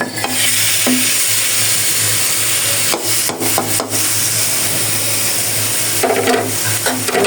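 Chicken pieces fry in soybean oil with a loud, constant sizzle, broken by a few scraping stirs and knocks from a utensil against the pan.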